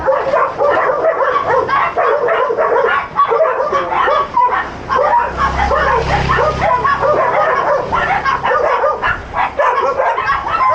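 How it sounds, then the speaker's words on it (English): Several dogs in the Philippines barking, yipping and whimpering nonstop, loud and close, with overlapping rapid barks and a low rumble partway through. "The dogs over here."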